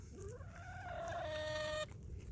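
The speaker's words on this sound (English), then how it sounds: "This is Curious, my favorite chicken." A chicken lets out a single drawn-out, rising squawk close by, a tonal call lasting over a second before cutting off, against a quiet low background rumble.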